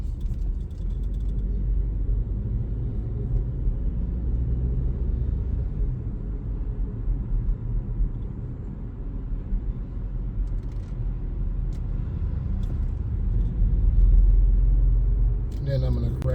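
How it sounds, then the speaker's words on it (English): A car's engine rumbles low and steady as it accelerates while merging in traffic, the drone swelling slightly near the end, heard from inside the cabin. "This car takes off really fast"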